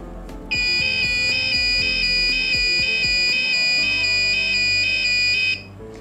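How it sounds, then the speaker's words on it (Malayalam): Tilting an Arduino ADXL335 accelerometer rig sets off its alarm: a shrill electronic beep pulsing in a fast, even rhythm for about five seconds, with soft taps and handling noises underneath. "കൂടാതെ ടിൽറ്റ് ചെയ്യുമ്പോഴും അലാറം അടിക്കും."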